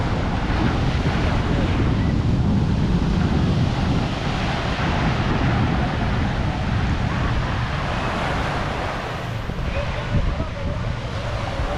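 Ocean surf on a South Florida beach, a continuous broad wash of waves heavily mixed with wind buffeting the microphone, loud and steady throughout with no clear pauses.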